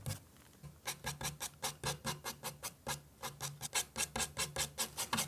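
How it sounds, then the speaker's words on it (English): Oil pastel on paper is scratched out in quick, rhythmic rasping strokes, about three or four per second. The scratches are close and fairly quiet, with a short pause around the middle. "I'm going to apply more of the darker color in here and then scratch quite a bit of it out."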